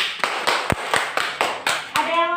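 Schoolchildren in a classroom clap for a classmate in a quick rhythmic pattern of sharp, distinct hand claps, several bursts in a row, close and fairly loud.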